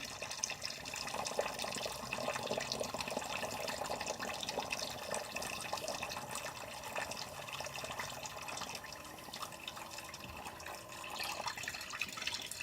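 Water runs from a tap while a Gillette Sensor 3 razor is rinsed during a head shave, a steady, fairly quiet splashing stream with small irregular drips and gurgles, and no voices.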